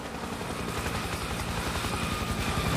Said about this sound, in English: Slow up. Incoming helo.